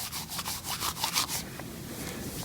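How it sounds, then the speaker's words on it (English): Small wooden dowel pieces rolled and rubbed together in the hand, giving a close, dry rhythmic rubbing and rattling, strongest at first and then fading to a softer clatter. "If you take them in your hand and just kind of roll them around,"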